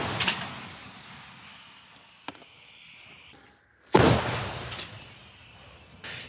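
Two heavy booming blasts from a 122 mm artillery gun firing, one at the start and a louder one later, each trailing off in a long rumbling echo, with a few sharp knocks between.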